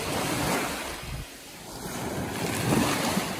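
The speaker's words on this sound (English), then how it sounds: "This is Jackson's Bay, which is my personal private beach." Surf washes onto a beach at a bay, a broad steady roar of waves rising and falling in two gentle swells, with wind buffeting the microphone throughout and no voices.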